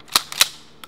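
A 12 gauge shotgun fires a 1 ounce Foster slug at an outdoor range, giving one sharp, loud report at the start, then two more short cracks, the last one fainter.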